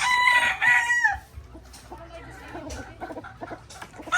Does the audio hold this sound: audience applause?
no